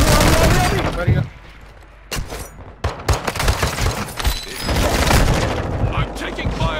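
Bursts of gunfire in Call of Duty: Modern Warfare II, with loud volleys at the start and from about three seconds on, broken by a quieter gap, while players talk over the shooting.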